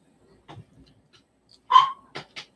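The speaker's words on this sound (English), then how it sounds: "You hear that dog barking?" A dog barks from another room, two or three short, muffled barks and a yip after some faint quieter sounds.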